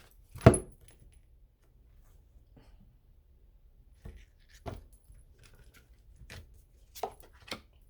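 A deck of tarot cards is cut by hand in a quiet room: one sharp, fairly loud slap near the start, then a few softer, scattered card taps and clicks with near silence between them.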